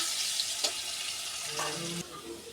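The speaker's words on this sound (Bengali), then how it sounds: "আর আলুটা লাল লাল করে ভেজে নেব" Potatoes fry in plenty of oil in a pan, a steady close hiss with a brief clatter of stirring and a slight drop in the sizzle near the end.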